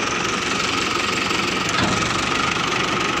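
A tractor engine running steadily while reversing with a tipper trailer, a continuous loud mid-range idle rumble with knocking vibration and no pauses.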